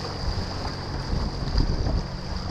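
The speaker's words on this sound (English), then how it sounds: "Fun waves here." Water sloshing against a rowing boat on a choppy ocean course, heard as a steady broadband wash with low rumbling surges and constant wind buffeting the microphone throughout.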